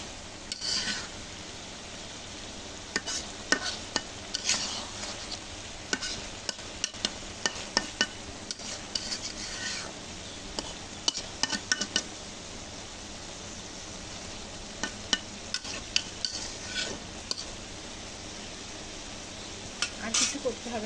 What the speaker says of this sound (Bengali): এখন ঢাকনাটা উঠিয়ে তরকারিটা আরেকবার নাড়াচাড়া করে নেব